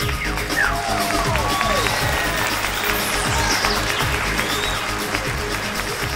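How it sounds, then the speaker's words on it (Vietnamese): Applause and cheering from the crowd at a Vietnamese women's beauty pageant as a contestant advances to the top seven, a dense continuous roar of clapping with scattered whoops and whistles over it. "Xin quý vị cùng vỗ tay và chia vui cùng với thí sinh lọt vào top 7 tiếp theo."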